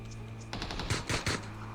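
A few quick gunshots fired as warning shots in the battle royale game PUBG, three short loud bursts in close succession over a steady background hum.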